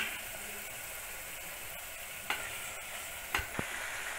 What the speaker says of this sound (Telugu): ఇప్పుడు హాఫ్ బాయిల్ చేసుకున్న ప్రాన్స్ యాడ్ చేస్తున్నాను.